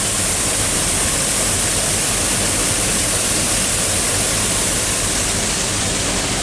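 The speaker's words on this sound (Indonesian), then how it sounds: "Dan ini aliran airnya." Water rushing steadily at Manuaba waterfall in Tegallalang, Gianyar, Bali: a loud, constant, dense roar close by with no break, and no one talking.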